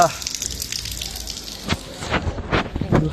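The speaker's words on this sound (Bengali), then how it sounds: "ঠান্ডা প্রচুর বৃষ্টি, বৃষ্টি আর বৃষ্টি" Heavy rain falls in Riyadh, Saudi Arabia, as a constant close hiss broken by sharp, irregular drips of water, with a voice heard now and then.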